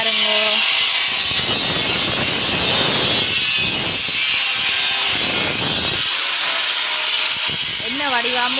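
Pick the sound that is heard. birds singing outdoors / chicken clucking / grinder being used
grinder being used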